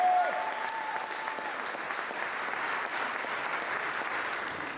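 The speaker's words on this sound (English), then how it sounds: "Let's have another round of applause" At an honoree celebration, an audience applauds steadily, a dense, even wash of clapping that holds without pause throughout.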